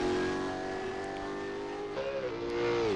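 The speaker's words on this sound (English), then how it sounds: "Very typically Holden, very noisy thing, lovely sounding car" A mid-2010s Holden race car engine roars in the Assetto Corsa racing game, a continuous loud droning tone that holds steady then drops in pitch as the car shifts or lifts, with a slight rise again at the end.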